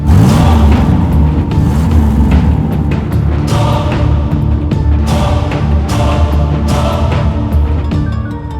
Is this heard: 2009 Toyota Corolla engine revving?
yes